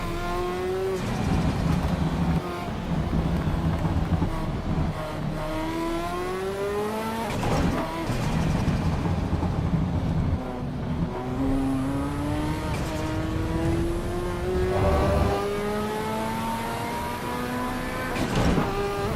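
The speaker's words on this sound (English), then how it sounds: "Driving the Ferrari." Ferrari sports car engine driving and accelerating, with a turbo whine, loud and sustained, rising and falling through repeated revving gear changes, close and continuous throughout.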